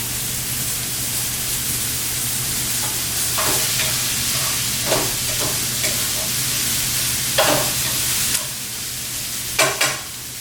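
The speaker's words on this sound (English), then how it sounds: "we're going to pour our vegetables right in that hot skillet" Vegetables sizzle steadily in hot olive oil in a skillet, a constant hiss with occasional louder crackles and stirring scrapes as the pan cooks.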